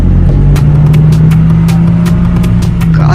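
A car engine sound effect in a manga voice-over, a steady low hum that holds loud and continuous for about three seconds, with faint clicks on top, and no talking.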